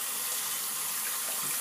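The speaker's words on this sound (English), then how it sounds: "I'm going to need some water, clean it off." Tap water runs steadily from a faucet into a sink for rinsing off a Proglide Styler shaver, a continuous soft hiss of flow lasting the whole short stretch, moderately close, with no talking.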